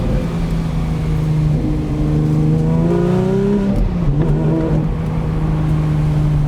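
Porsche 991 Speedster flat-six engine while driving, a loud close drone with gear-change dips and pitch swells as revs climb and fall, steady cabin road roar underneath and no voices.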